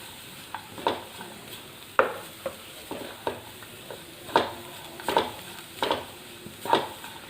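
Grated carrot and beetroot sautéing in ghee in a pan, a soft continuous sizzle broken by repeated scraping stirs and light clinks of a utensil against the pan at an irregular pace.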